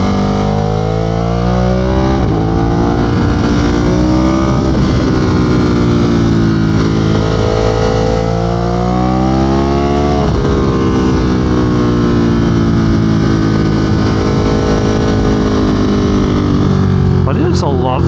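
A 2022 Ducati Monster motorcycle's engine drones loud and close while riding, its pitch sweeping up and down through gear changes and throttle, with wind noise and a rider's voice talking over it.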